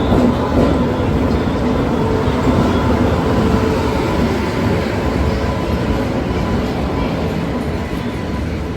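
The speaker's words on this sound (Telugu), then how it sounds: "సికింద్రాబాద్ గుంటూరు వెళ్ళే ట్రైన్ అయితే వచ్చేసింది" A Secunderabad–Guntur passenger train pulls into a station platform, a loud, steady rumble of wheels and carriages that holds throughout and fades slightly at the end.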